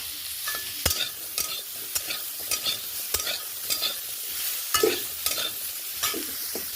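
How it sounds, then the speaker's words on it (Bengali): Hog plums (amra) fry with turmeric and salt in a pan, giving a steady sizzle broken by sharp scrapes and clicks as a spoon stirs them at an irregular pace. "আমড়াগুলো ভাজা হয়ে গেছে"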